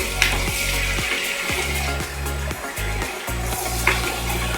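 Mushrooms cook down in a pan with a soft, continuous sizzle, broken by a regular low thudding and a couple of sharp clinks of a utensil against the pan.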